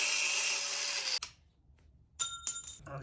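A power tool trims rusted rocker panel sheet metal on a Jeep Cherokee, two short bursts of cutting, about a second, then a near-silent pause, then a few choppy buzzing spurts.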